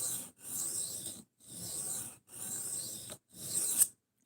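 A knife is drawn across a sharpening stone in slow, even strokes, five raspy passes separated by brief pauses, close and fairly quiet.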